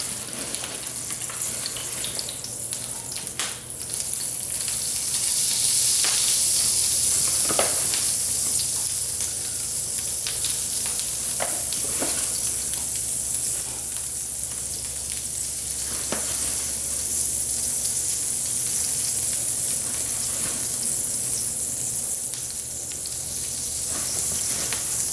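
Hot grease sizzling in a pan as flour is spooned in to make a paste for hamburger gravy, a steady loud crackling hiss with occasional clinks and stirring noises throughout.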